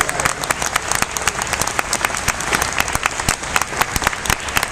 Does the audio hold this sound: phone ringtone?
no